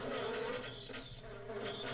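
Bees buzz continuously in the Half-Life video game, a dense, steady droning hum that fills the scene without pause.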